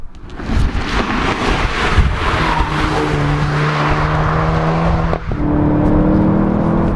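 A Volkswagen Golf GTI Clubsport S is driven hard on a track, its engine roaring loud and near with rising and falling revs and a brief dip as it shifts.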